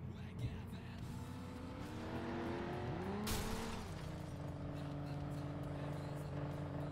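Cars race and skid in the video game FlatOut 2: engines drone and rev through shifting pitches, with a sharp crash-like burst partway through and continuous mechanical roar throughout.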